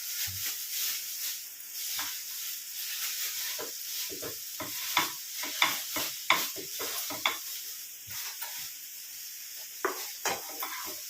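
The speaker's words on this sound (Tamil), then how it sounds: "இப்போது இந்த உருளைக்கிழங்கையும் போட்டுடலாம்." Potatoes go into a pan for pav bhaji and are stirred and fried, giving a steady sizzle with repeated scraping and clinking of a utensil against the pan, sharper knocks bunching toward the middle, with no talking.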